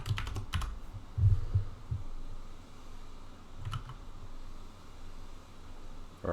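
Typing on a computer keyboard while coding a JavaScript shunting-yard algorithm, with clusters of close key clacks early on, then a quieter stretch broken by a few more taps.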